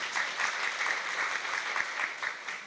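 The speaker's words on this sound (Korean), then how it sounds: "좋은 강연 해주신 유정혜 부사장님께 다시 한번 큰 박수 부탁드리겠습니다" Audience applause filling a lecture hall at the close of a Korean AI talk, a steady wash of many hands clapping evenly throughout, fairly loud and close, with no voices over it.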